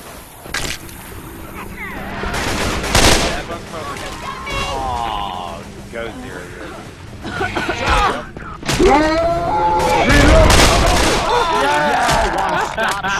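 Bursts of gunfire in the zombie shooter game Left 4 Dead 2, rapid shots and a fusillade mixed with game noise, while players talk over the action.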